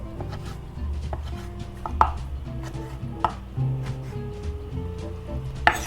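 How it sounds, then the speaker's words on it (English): A knife chops roasted eggplant steadily on a cutting board, with several sharper knocks standing out over a faint low background hum. "We're gonna chop them into bite-sized pieces."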